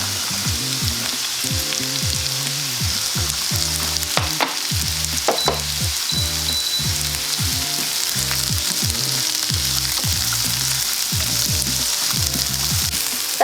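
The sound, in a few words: sautéing carrot and white onion in a pan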